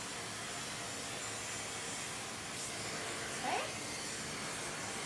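A hair dryer blows at the roots of hair with extensions during a brush blowout, producing a steady, even whooshing hiss with only a slight flutter as the airflow shifts.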